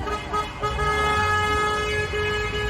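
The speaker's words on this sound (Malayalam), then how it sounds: "എന്റെ പൊന്നോ ഇത്ര ഹോണടി എന്തിനാണോ എന്തോ എനിക്കറിഞ്ഞൂടാ." Car horns toot steadily in loud, busy traffic in Tbilisi, Georgia, one sustained honk running through with other vehicle noise underneath; no talking.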